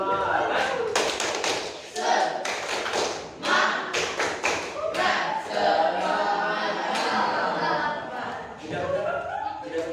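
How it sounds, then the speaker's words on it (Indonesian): A classroom of students does a rhythmic spirit clap, bursts of sharp hand claps in patterned groups, lively and close, mixed with chanting voices and a teacher speaking. "kita akan tepuk semangat"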